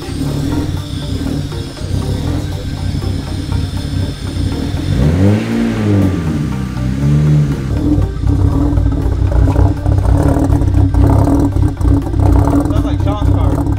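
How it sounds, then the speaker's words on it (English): A BMW 335i engine revs up twice in rising, falling sweeps over a steady rumble, with people talking through the clip. "Sounds like Sean's car."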